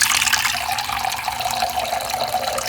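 Water runs steadily and loudly from a tap into a metal bowl sitting on a kitchen scale, a continuous close splashing rush with no voices.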